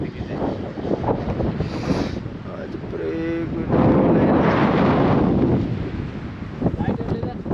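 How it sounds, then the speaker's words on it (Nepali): Cold wind gusts across the Kanyam hill ridge in Nepal, buffeting the microphone with rough, rumbling blasts that rise and fall while people talk nearby. "अन्त कन्यामको डाँडामा पुरा हावा सरर आइरहेको छ"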